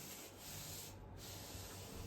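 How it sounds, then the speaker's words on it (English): Cupboard being scrubbed clean, a continuous close rubbing and scouring sound with a brief dip in the middle, no talking. "take everything off this cupboard off and clean it and give it a scrub"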